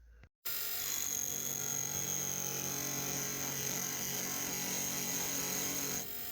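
A power tool cutting off an excess bolt on an ATV battery disconnect switch mount, with a loud, steady, high-pitched whine running for about six seconds after a brief start and stopping abruptly.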